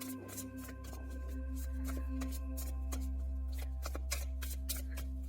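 A deck of tarot cards is shuffled close by, a continuous quick riffling flutter of cards over a low steady background hum.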